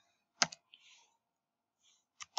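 A few sharp, close clicks of keys on a computer keyboard as a short value is typed, separated by brief quiet gaps.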